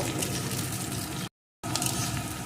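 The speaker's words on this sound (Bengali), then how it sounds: "পেঁয়াজটাকে একটু ভেজে নিয়েছি" Two large chopped onions frying in a pan: a steady, dense sizzle with bubbling, fairly close and continuous, briefly cut off mid-way before resuming.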